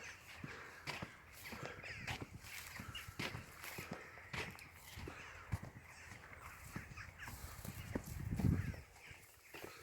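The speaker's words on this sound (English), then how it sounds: "Noisy rooks up in the trees." Rooks caw from trees along a country pilgrimage walk, scattered harsh calls at a moderate distance over footsteps and faint outdoor ambience.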